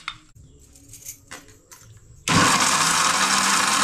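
A kitchen mixer grinder blending onion, garlic and spices for village-style chicken vada switches on abruptly after a few quiet thumps and clicks, then runs with a loud, steady whirring roar to the end.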